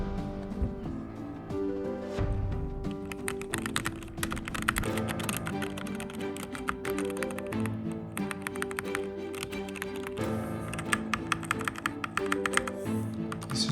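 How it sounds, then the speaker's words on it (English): Steady SteelSeries Apex Pro mechanical gaming keyboard clacking with rapid keystrokes, heard alongside sustained background music throughout. "This is the sound of the keyboard,"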